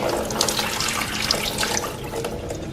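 Water poured into a bowl of cashews to soak them for vegan mac and cheese, a steady splashing gush from close by that tapers slightly toward the end.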